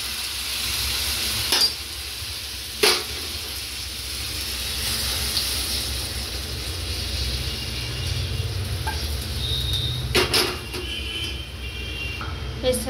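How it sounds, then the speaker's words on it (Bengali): Hot water hits a pan of fried Bengali spice mix for shukto, producing a sustained hiss and sizzle with a few sharp clatters of utensils against the pan. "আমি এবার গরম জলটা ঢেলে দেবো"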